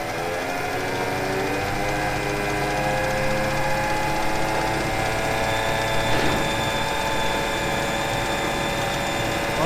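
A tractor engine runs at a steady idle while pulling a Deves AC 180 skip carrier over gravel, with a constant droning hum and mechanical rattles, one brief louder clank near the end.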